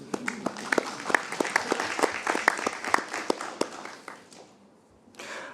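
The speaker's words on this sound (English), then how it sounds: "I think that deserves a round of applause for yourself" An audience claps in a broad burst of applause at a careers session on international organizations, dense and steady for about four seconds before fading to near silence, with a brief final flurry at the end.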